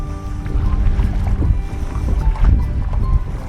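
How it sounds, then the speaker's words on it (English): Strong wind gusting over a small boat out on the water, a steady loud rumbling roar with buffeting low-end surges and no one talking. "And we've got the wind coming up behind us now, quite strong."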